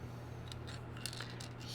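Scissors snipping small parts from the sprue of a 1:48 scale U96 U-Boat model kit, several quick close cuts in a quiet room over a low hum.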